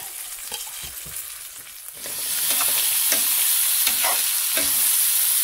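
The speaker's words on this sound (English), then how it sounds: "Now, getting my onion and my garlic in here. This is on medium-high heat." Onion and garlic hit a pan on medium-high heat and burst into a loud, steady sizzle, with stirring scrapes running through the frying.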